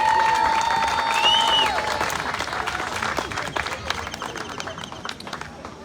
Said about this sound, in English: let's give a big round of applause to Christine Baldanza